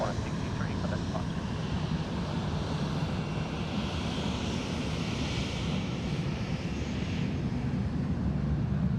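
A jet aircraft rumbles continuously at Sydney Airport, a broad steady roar that swells slightly mid-way as a plane passes across the northern end, heard from a distance with wind-like outdoor noise.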